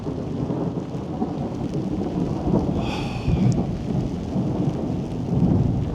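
Thunder rumbling across the Serengeti after a lightning flash, with a steady wash of rain throughout and a deeper roll swelling near the middle and again toward the end.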